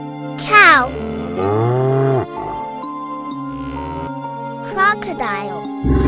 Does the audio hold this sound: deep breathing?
no